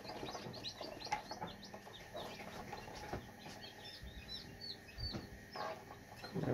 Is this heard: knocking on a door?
no